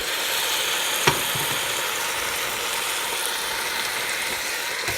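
Simple chili with tomatoes stirred in a pot, a steady soft sizzle and bubbling with a single sharp clink of the spoon early on.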